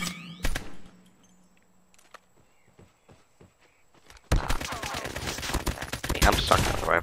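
Rifle gunfire in the mobile shooter COD Mobile: one sharp shot and a few scattered thuds, then a dense, loud burst of rapid firing and effects filling the last few seconds.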